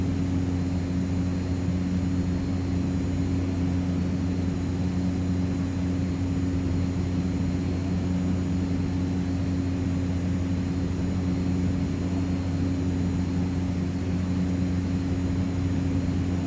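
Cessna 208 turboprop on approach in the X-Plane flight simulator: a steady, unbroken engine drone with strong low humming tones and a broad airy wash, constant in level throughout with no voices.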